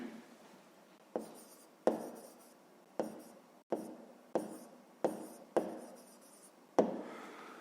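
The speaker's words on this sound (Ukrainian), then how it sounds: "Записуємо відповідь." A pen or pencil writes down the answer to a math exercise on paper, with eight distinct strokes, each starting with a sharp tap and fading into a scratchy rub, close and quiet in an otherwise silent room.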